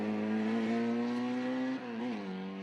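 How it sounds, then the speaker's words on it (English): A 1275cc A-series Mini Cooper S with straight-cut gears, a Group N historic touring car at a sprint event, screams at high revs with steady gear whine, holding pitch then dipping briefly as it shifts before resuming, loud and close throughout. "Minis sound so good when they're working hard, the straight-cut gears, trying to drown out the noise of the screaming A series."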